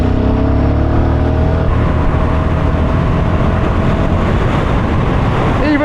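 Royal Enfield Guerrilla 450 motorcycle riding at speed during an overtake, with a steady engine drone and rising harmonic tones under heavy, continuous wind rush.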